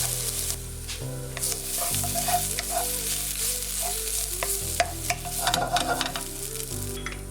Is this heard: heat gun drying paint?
no